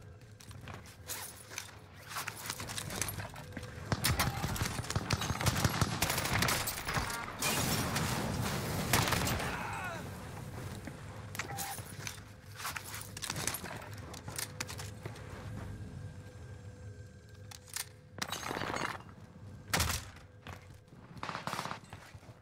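Rapid, crackling automatic fire from a Marco 5 submachine gun in Warzone, sustained bursts for several seconds followed by scattered shorter volleys, with footsteps and gear rustle between shots.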